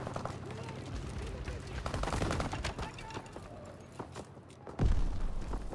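Rapid distant gunfire and scattered shots in a Call of Duty: WWII battle near a castle arch, with rattling bursts and a louder blast late on, mixed under shouted in-game voices.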